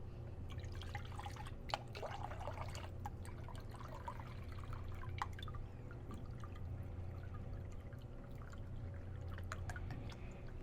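Vegetable stock poured from a carton into a cooking pot, a steady, quiet liquid stream with faint dribbles and splashes running throughout.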